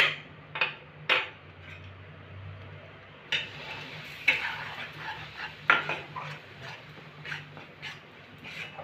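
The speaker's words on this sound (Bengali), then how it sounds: "আটাটাকে কিন্তু আমি ভালো করে ভেজে নেব যতক্ষণ না আটাটা ব্রাউন কালার আসছে ততক্ষণ পর্যন্ত ভাজতে থাকবো" A spoon stirs and scrapes wheat flour roasting in melted ghee in a pan for modak, giving a few sharp clinks and taps over a low, steady background, with no talking.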